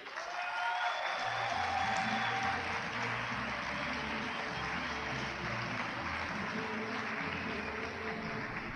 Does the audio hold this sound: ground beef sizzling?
no